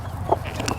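A backyard hen gives a single short cluck, close and moderately loud, in a brief snippet with a low background hum.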